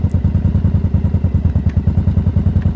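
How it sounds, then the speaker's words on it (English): A warmed-up motorcycle engine idles steadily with a low, even, loping thump repeating several times a second, close and loud throughout, on a roadside in Australia. "I'm just going to pull up over here to check how the bike is idling once it's warm"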